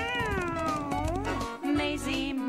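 A long, drawn-out cat meow, wavering in pitch, is followed by a second shorter meow, close and clear over a low background hum.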